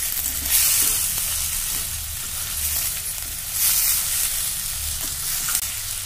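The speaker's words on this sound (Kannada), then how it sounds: "ಎಲ್ಲ ಒಂದು ಸ್ವಲ್ಪ ಫ್ರೈ ಆಗಬೇಕು, ಹುರ್ಕೋಬೇಕು" Paneer and mint for a veg biryani fry in a pan with a continuous close sizzle, swelling in two brief louder surges as the mix is stirred; no speech.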